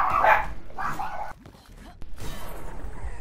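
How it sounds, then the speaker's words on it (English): A dog barks loudly nearby, two sharp barks at the start followed by fainter yips and a whimpering tail-off. "I apologize for the barking."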